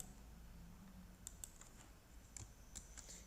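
Keys tapped on a computer keyboard, a quiet scattering of irregular clicks over faint background hiss, with no talk.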